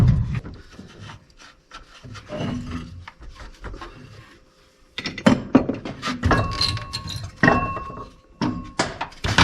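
Wrenching and scraping under a truck while freeing the power steering return line below the pump: irregular metallic rubbing, clinks and knocks, quieter at first, then a busier, louder stretch of scraping and taps in the second half.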